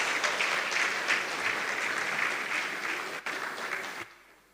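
A round of applause for a Vice Chancellor at a university law college inaugural dinner, dense clapping from the room holding steady before cutting off sharply near the end.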